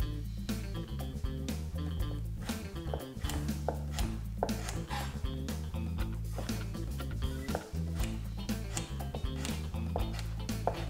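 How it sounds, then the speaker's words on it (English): A chef's knife chops carrot into small, even cubes on a board, with a steady run of quick, close knife taps and cuts that holds a continuous rhythm with brief pauses. "square them up by tapping them with the knife. And just into cubes."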